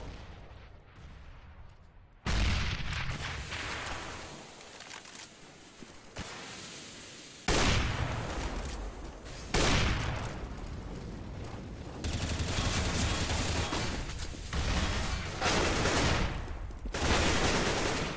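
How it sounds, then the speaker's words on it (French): Rapid gunfire in Counter-Strike on the de_cache map during a tournament match, with repeated loud bursts of shots and sharp cracks over a continuous background of game noise. "Très très belle ouverture de la part de Skinny qui met double headshot sur le BP"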